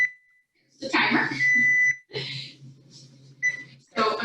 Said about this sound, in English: my 10-minute timer is just about to go off